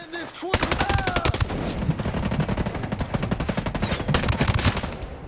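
Rapid gunfire in a video game, with dense strings of closely spaced shots rattling almost continuously at moderate loudness, and a brief voice at the very start.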